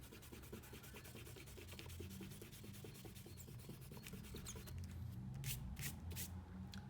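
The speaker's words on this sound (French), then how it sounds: "On peut gommer nos traits de construction avec la gomme Faber-Castell." An eraser rubs steadily across paper, wiping out pencil construction lines on a Simba emoji drawing, a soft continuous scrubbing at close range with faint brushing strokes and no talk.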